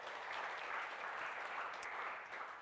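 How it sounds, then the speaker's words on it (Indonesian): Church congregation applauding steadily during a sermon, a dense, even wash of clapping held at a moderate, fairly distant level throughout, with no talk over it. "Beri tepuk tangan bagi Tuhan."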